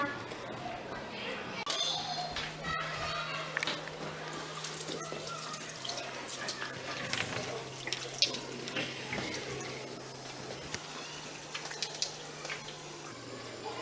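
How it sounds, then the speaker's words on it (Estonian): Tap water runs steadily as first-grade schoolchildren wash their hands at a sink, a constant splashing hiss under lively children's chatter and voices throughout. "Lähme käsi pesema."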